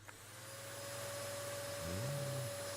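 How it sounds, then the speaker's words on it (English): Hoover vacuum cleaner running with a steady motor hum and whine that swells slightly, then a brief rising pitch sweep near the end, moderately quiet and heard alone without talk. "Sounds like a Hoover."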